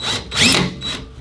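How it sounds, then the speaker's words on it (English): A power drill runs in two short bursts as it bores out a dimpled metal part on a car being bolted together, close and buzzing, with a brief pause between the whines. "Let's drill one out and see what it does."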